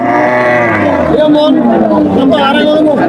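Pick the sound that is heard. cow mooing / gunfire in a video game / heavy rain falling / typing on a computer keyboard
cow mooing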